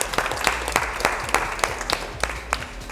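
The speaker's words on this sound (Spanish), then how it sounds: "vamos a darles un fuerte aplauso a ellas para calentar" Applause for climbers at an indoor climbing gym event, a steady patter of many hands clapping with sharp individual claps standing out throughout, moderately close and loud.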